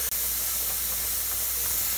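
Steady broadband hiss of steam venting from a pressure canner during home canning of Swiss chard, continuous and close, with a brief dropout near the start.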